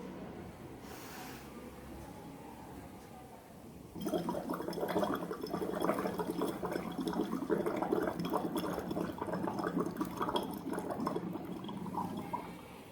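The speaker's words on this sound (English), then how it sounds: "breathe out through the straw and then it will create bubbles" Steady gurgling and bubbling from breath blown out through a straw into water during a yoga breathing exercise for senior citizens, quiet at first, then a loud continuous bubbling from about four seconds on, close and alone.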